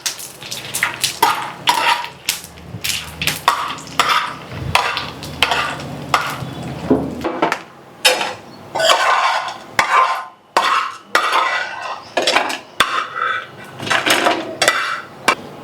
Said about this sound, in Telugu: ఇప్పుడు వేపుకుందాము.